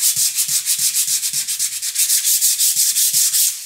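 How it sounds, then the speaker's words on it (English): A sanding block scrubs rapidly across painted wood in brisk back-and-forth strokes, a loud, close, rhythmic rasp of roughly six to seven strokes per second with no talking. "I really like my sanding block."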